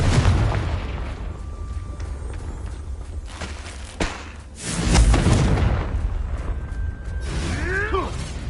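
Blasting Confringo spell explosions in the Hogwarts Legacy video game, with a sharp burst near the middle and a louder booming blast soon after, set among mechanical game effects and rumbling ambience.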